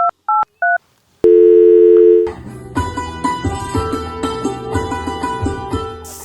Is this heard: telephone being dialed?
yes